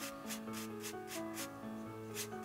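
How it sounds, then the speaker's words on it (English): Fine-bristled brush rubbing the leather back checks of a grand piano action, soft rhythmic scrubbing strokes about every third of a second, very quiet and close, with faint steady background hum. "we're reconditioning the leather by using this fine bristled brush, and we're smoothing it out and roughing it up at the same time"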